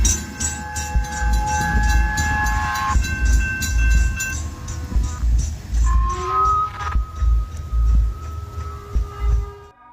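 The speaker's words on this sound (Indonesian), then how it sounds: "Ia kemudian mulai merekam kereta yang kebetulan lagi melintas tepat di depannya." A train rolls past on the tracks right in front of the listener, loud and close, with rhythmic clatter of wheels over rail joints, a low rumble, and steady tonal squeals and hums from the passing cars.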